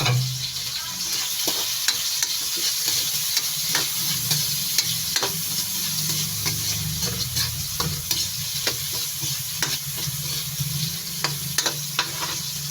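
Garlic, onion and ginger sautéing in a hot pan for chicken curry, producing a constant loud sizzle with regular clinks of a stirring utensil scraping the pan throughout, close and with no speech.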